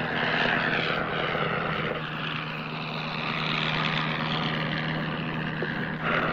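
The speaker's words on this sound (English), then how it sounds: "his first instructional flight in an Avro 504" An Avro 504 biplane's engine drones steadily in flight, a loud, continuous propeller roar with a low hum throughout and no talk.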